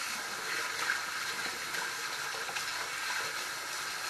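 A tap runs steadily into a sink during a wet shave with a Wilkinson Classic razor and a soft brush, a continuous close hiss of flowing water with no voices.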